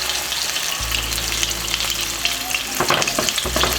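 Zucchini cheese fritters fry in a pan after being flipped, a dense, close, continuous sizzle full of crackling pops over a low background hum, with no talking.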